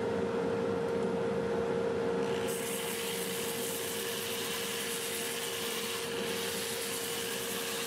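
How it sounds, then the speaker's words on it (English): Wood being sanded on a lathe with a 2-inch 80 grit disc, a steady rubbing hiss over a constant droning dust collector, no talking. "I'll be using a 2-inch disc starting with 80 grit and sanding up through 400"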